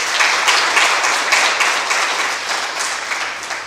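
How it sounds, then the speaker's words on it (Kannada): An audience applauds a school children's play at a drama festival: dense, sustained clapping from a crowd, fairly loud and even, easing slightly toward the end. "ಅವರಿಗೆ ನಿಮ್ಮೆಲ್ಲರೂ ಒಂದು ಜೋರಾದ ಚಪ್ಪಾಳೆ ಮತ್ತೊಮ್ಮೆ ಬರಲಿ."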